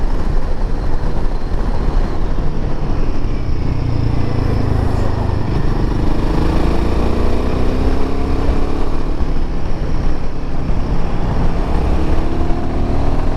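Royal Enfield Himalayan 450 motorcycle being ridden, its engine a loud, steady drone with rising and falling pitch as it accelerates, wind rushing throughout, no talking.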